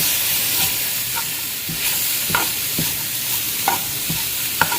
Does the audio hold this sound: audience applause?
no